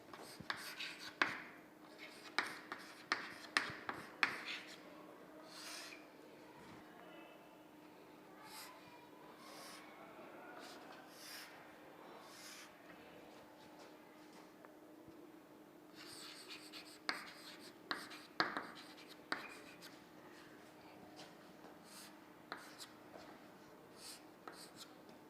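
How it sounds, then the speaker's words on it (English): A pen scratches and taps across paper while a flowchart is drawn, with bursts of quick strokes at the start and near the end and softer steady scribbling in between, fairly close and quiet. "Now let me draw flowchart for the same."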